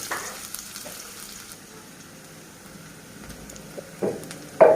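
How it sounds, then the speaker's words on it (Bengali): Green chili and chopped onion frying in oil, a quiet steady sizzle with a few light scrapes of stirring, growing briefly louder with clanks near the end. "তেল দিয়ে কাঁচা ঝাল দিয়ে দিলাম, পেঁয়াজ কুচি দিলাম, একটু ভেজে নিয়ে"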